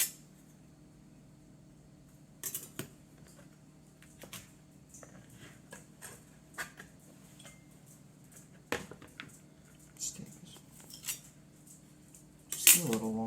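A knife trims julienne carrots on a board, producing faint, close, scattered taps and clicks at irregular intervals over quiet background, with a sharper clatter near the end.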